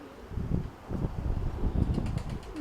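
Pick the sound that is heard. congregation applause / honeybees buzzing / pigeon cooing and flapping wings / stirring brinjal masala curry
pigeon cooing and flapping wings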